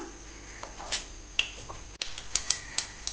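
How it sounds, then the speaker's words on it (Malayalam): Mustard seeds, half a teaspoon, popping in two tablespoons of hot coconut oil in a clay pot: a few scattered, sharp little pops and crackles at an irregular pace over a faint, quiet background. "കടുക് പൊട്ടി വന്നിട്ടുണ്ട്"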